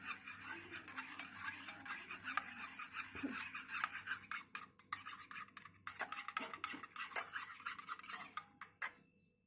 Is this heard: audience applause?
no